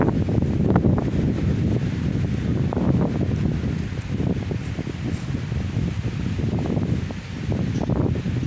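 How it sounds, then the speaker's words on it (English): Strong wind blasting outdoors around an old 1965 Chevelle being washed, a constant loud roaring buffet on the microphone with gusty rumble and rustle throughout and no talk. "The wind's blowing out here pretty strong today, so it might be kind of hard to hear me"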